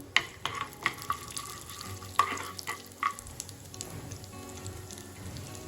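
Urad dal roasting in hot oil with already-toasted mustard seeds, a soft steady sizzle with scattered crackles and pops, and a few sharper spits early on, close and fairly quiet.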